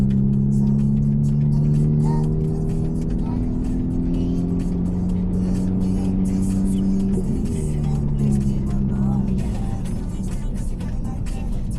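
Steady low engine drone of a car driven slowly, with gentle pitch shifts as it moves, close and continuous under faint background chatter.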